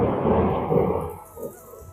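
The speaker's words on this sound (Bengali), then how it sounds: "মেঘ ডাকতেছে প্রচুর পরিমাণে। আর অসাধারণ বৃষ্টি হচ্ছে, অসাধারণ।" Thunder rumbles during heavy rain, a deep rolling boom that swells, fades and returns more faintly, with no talking.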